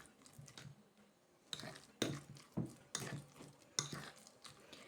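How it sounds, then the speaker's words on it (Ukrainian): Garlic butter mixed with salt and herbs is stirred in a bowl, giving a series of soft, close scraping and tapping strokes with short pauses between them and no voices. "перемішую це все ось так"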